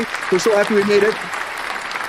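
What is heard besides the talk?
applause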